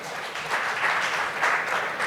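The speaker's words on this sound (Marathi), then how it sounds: "मला वाटतं त्यासाठी आपण एकदा सगळ्या टाळ्या वाजवाव्यात" A lecture audience at a centenary lecture series breaks into steady, full applause, many hands clapping at once in an even wash of sound with no speech over it.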